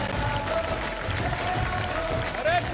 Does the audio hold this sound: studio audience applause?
yes